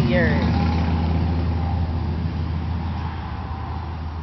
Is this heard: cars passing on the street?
yes